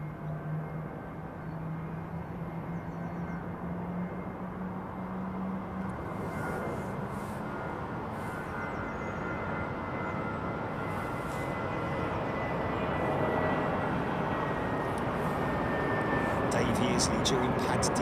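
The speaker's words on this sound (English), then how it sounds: "Singapore 777 on the push, starting her engines up." A Singapore Airlines Boeing 777 starting its engines during pushback in winter de-icing conditions, a broad steady roar slowly building in loudness over the whole span, heard from a distance with a faint rising whine.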